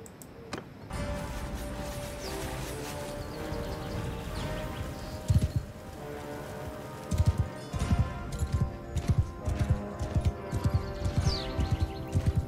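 Hooves of a player's horse in the Mount & Blade 2: Bannerlord video game, rhythmic clip-clop over a music and battle background, with louder hoof hits toward the end.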